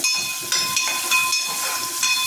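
Onion and curry leaves crackling in hot oil for a tempering, a loud close sizzle with bursts of spitting pops, alone without talk.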